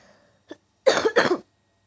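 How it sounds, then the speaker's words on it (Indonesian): A faint click is followed by two quick, harsh coughs close to the listener, then silence. "Sekarang gue masih batuk-batuk karena gue itu masih sakit ya."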